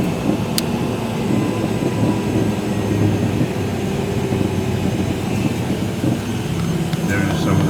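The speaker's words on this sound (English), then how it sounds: "There's room for a one runway airport, which we are landing on right now. The pilot greases it on." Airliner touching down on a one-runway airport on a small volcanic Pacific island, a steady loud roar of engines and rumbling runway noise throughout, with a person talking over it.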